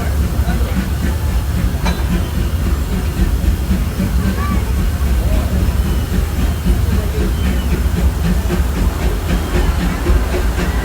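The Disneyland Railroad steam locomotive E.P. Ripley rumbles steadily along with a constant hiss and low chugging, voices faintly mixed into the continuous noise.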